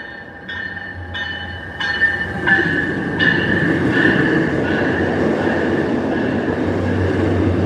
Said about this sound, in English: I think there's an F40 pushing the train. Here it comes. Express train. This train will not be stopping.